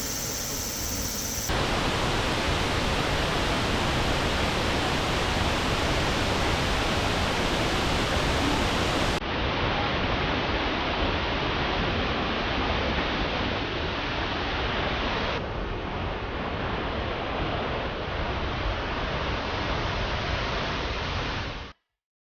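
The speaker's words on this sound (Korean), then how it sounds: "시라이트 폭포 전망대에서 본 시라이트 폭포입니다" Shiraito Falls near Mount Fuji, seen from its viewing deck, gives a constant broad roar of falling water, a steady hiss that carries on unbroken before cutting off abruptly.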